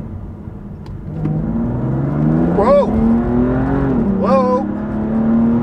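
A BMW M4 CS engine pulls hard under acceleration, its tone rising steadily with two quick gear changes that briefly dip the pitch, loud and close from inside the car, with a voice exclaiming once over it.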